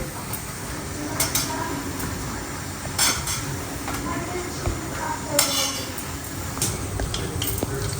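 Jalebi frying in hot oil gives a continuous sizzle, with utensils clinking and pans knocking now and then, while someone talks over it.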